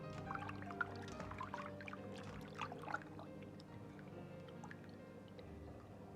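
Fish slices for sweet and sour fish are rinsed in a bowl of water. Faint, close sloshing and light dripping continue softly throughout, with no voices.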